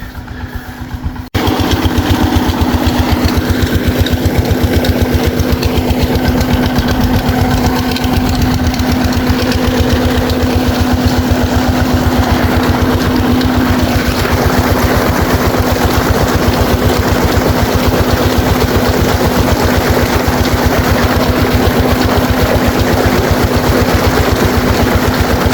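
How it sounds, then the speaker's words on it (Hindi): A Peter diesel engine driving a village tubewell pump runs loud and close, starting after a brief quiet moment and then thumping along in a steady, unbroken rhythm with no voices over it. "पीटर इंजन और ट्यूबवेल अच्छी तरह चल रहे हैं कि नहीं।"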